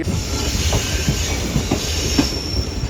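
Pakistan Railways Awam Express passenger train rolling along steadily, with continuous rumble, rhythmic wheel clatter and faint squeals heard from inside a coach with open windows, no talk.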